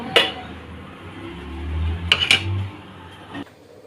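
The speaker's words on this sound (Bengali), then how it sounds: "মিক্স করে ঢাকনা দিয়ে ঢেকে রাখবো" A lid clinks onto a cooking pot of mixed bean lara, with one sharp metal clink at the start, a quick double clatter in the middle and a softer knock near the end, close by and over a low kitchen hum.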